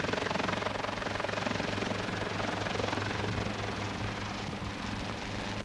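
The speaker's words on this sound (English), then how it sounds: "Laying hose with a helicopter was tested during Operation Firestop." A helicopter hovers during a forest firefighting hose-laying test, its rotor beating in a steady fast chop with a loud continuous engine roar.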